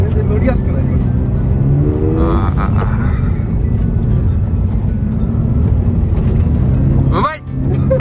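The new Subaru BRZ drives hard on a snowy track, its engine droning and rising under steady road and wind noise inside the cabin while people talk over it.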